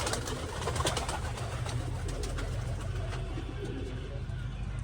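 Pigeons cooing and fluttering inside a small loft, steady overlapping bird calls up close with a constant background hum and some talk.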